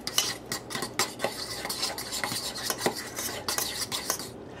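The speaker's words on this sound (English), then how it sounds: "Mix that all together." A spoon works cayenne and lemon zest into a seasoning mix in a bowl, with steady scraping and clinking strokes, close and fairly quiet, with no talk.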